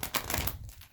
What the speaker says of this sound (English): I'll shuffle a couple times just so you guys can see.